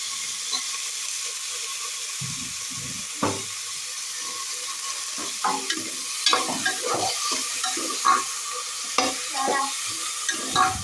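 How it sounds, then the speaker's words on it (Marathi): Vegetables are stirred in a pan for sambar, the spoon scraping and clacking in irregular bursts over a constant background sizzle and hiss. "भाज्या मस्त ढवळून घेऊया"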